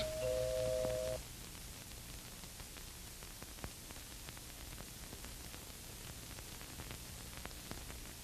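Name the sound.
doorbell ringing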